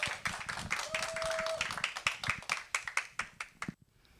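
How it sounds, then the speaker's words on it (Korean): At a church seminar, an audience welcomes a visiting lecturer with a fairly quiet burst of clapping, crisp individual claps in a quick steady rhythm that thin out and stop. "여기 계신 분들 우리 박수로 환영해 주시길 부탁드립니다."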